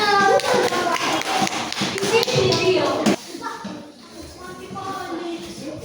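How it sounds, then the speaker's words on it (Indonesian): A classroom group claps together, brisk close handclaps for about three seconds before fading into children's chatter and a teacher's voice. "Tepuk tangan."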